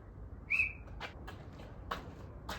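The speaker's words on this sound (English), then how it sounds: "So at the sound of my whistle, students, we will begin the game" A single short, shrill whistle blast starts a school PE ball game, followed by scattered soft knocks and thuds against a quiet background.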